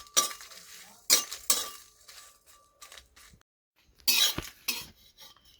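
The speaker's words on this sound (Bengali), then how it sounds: "এভাবে নাড়িয়ে চাড়িয়ে কিছু সময় ধরে ভেজে নেব লঙ্কাগুলোকে।" Dried red chillies are stirred and fried in a pan for mango pickle, giving intermittent bursts of metallic scraping and clinking from the spatula, separated by near-silent pauses.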